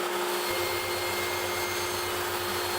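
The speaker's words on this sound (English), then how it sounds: "Here I am rough cutting the back legs to the" Bandsaw rough cutting wooden bar stool back legs: a loud, steady, close broadband roar with a constant hum and a low pulsing motor drone that begins just after the start, continuous and without talk.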